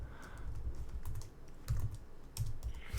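Rapid typing on a computer keyboard during a Linux server setup over SSH, a dense run of quick, close clicks with short bursts of harder keystrokes, no voices.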